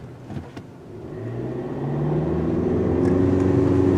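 A 2020 Volkswagen Atlas with its base non-V6 engine accelerates from inside the cabin, the engine note starting low and spooling up into a steady, rising drone that grows louder and holds near the end.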